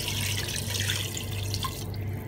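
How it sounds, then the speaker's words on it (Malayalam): Water runs and splashes steadily into a pressure cooker holding goat leg soup, a continuous close pouring that eases off near the end. "നമുക്ക് ഏകദേശം അര കുക്കറോളം വെള്ളം ചേർത്ത് കൊടുക്കാം"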